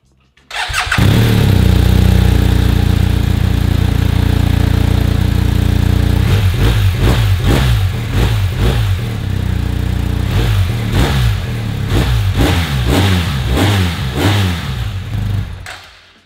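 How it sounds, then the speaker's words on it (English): A BMW R 1250 GS Adventure motorcycle engine starts and idles with a deep rumble, then revs repeatedly in sharp bursts, loud and close. "one of the most important things about a motorcycle is the sound."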